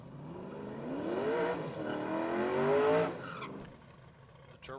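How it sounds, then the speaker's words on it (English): A turbocharged outlaw-class drag race car, an old-school 1965 Dodge Coronet, roars loud and close with a long rising engine note for about three seconds before cutting off. "I believe all three cars are turbocharged."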